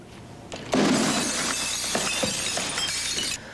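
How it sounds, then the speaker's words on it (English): Window glass shatters loudly when struck by a bowling ball during a house armor window test, a sharp crash followed by about three seconds of sustained tinkling and crackling fragments, close and alone without talk. "the outside glass did break, but the house armor glass is still intact"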